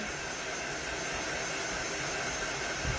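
Ceiling fan running on high in a small room, a loud constant whooshing rush of air with no change in pitch and no talking.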